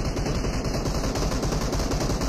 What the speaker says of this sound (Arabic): بالمسدس وقعته والله